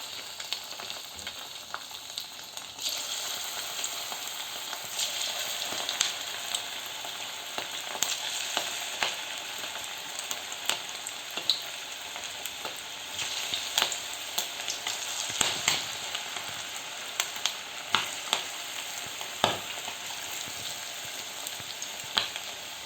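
Chilli chicken pieces fry in hot oil with a continuous close sizzle, dotted throughout by sharp pops and crackles and occasional spatula scrapes.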